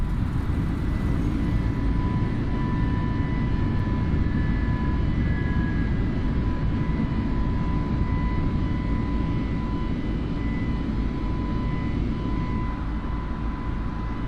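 Airliner jet engines at takeoff in Microsoft Flight Simulator 2020, climbing out of San Antonio: a steady, loud, broadband roar with a thin whine that holds throughout, with no talk over it.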